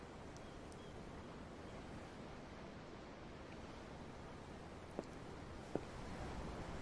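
Ocean surf washes steadily in the Tales of Arise video game, a constant broad rushing wash heard from aboard a ship, with a couple of small clicks near the end and no talk.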